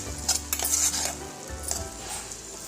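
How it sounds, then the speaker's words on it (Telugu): Bonam rice, made for the Telangana Bonalu festival, stirred in a cooking pot: a spoon scrapes and clinks against the pot over a lively sizzle and bubbling, close and fairly loud, with no speech. "ఇప్పుడు ఇది ఇక మూత నుంచి కలుపుకుందాము ఇలా మంచిగా ఉడుకుతుంది"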